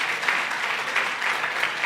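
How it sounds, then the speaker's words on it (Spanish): Steady applause from a church congregation for the great-grandparents present, a moderately loud, continuous patter of many hands clapping with slight swells. "Un aplauso para los bisabuelos."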